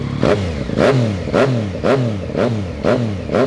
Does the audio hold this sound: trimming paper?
no